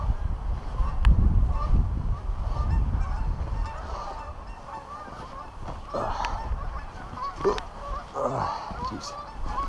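Geese honking repeatedly outdoors after a snowstorm, a scattered chorus of calls from a nearby flock with wind and some low rumbling early on, the honks carrying steadily over several seconds.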